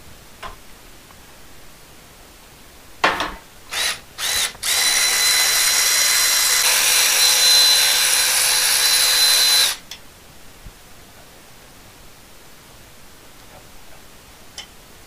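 Power tool loosening the cylinder head bolts on a Kawasaki FX850V engine: a few short, sharp bursts, then a loud, close, steady whirring run of about six seconds that stops abruptly, with no talking.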